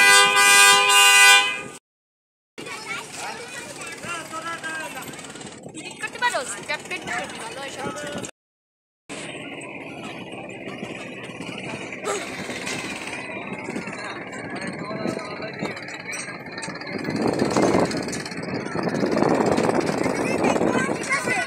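Passenger launch MV Tipu 12 reversing and departing for Dhaka, a loud horn blast, then droning engine rumble and churning water with a crowd murmuring and talking nearby, the noise swelling near the end.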